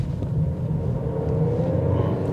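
Toyota Yaris 1.3 engine heard from the cabin while driving, a moderate steady low rumble with a faint rising hum, alone with no talk.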